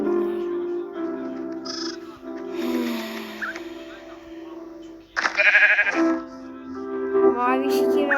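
Sheep bleat several times in wavering, nasal calls, some close and loud, with a few overlapping cries and brief noises between them.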